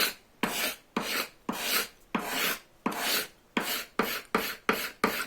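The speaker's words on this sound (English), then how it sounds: "try to angle my scraper so it's with the grain more" A hand scraper rasps along the grain of a wooden bow-saw part as it is shaped, producing about ten rhythmic, close, loud scraping strokes, each a sharp attack that fades, with no talk.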